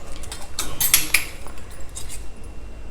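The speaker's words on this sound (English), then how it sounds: "So we can serve out our beetroot fry." Utensils clink and scrape against a plate as beetroot poriyal, a South Indian stir-fried beetroot dish, is served out; a few close metallic chinks cluster near the start, then soft scraping fades under low background hum.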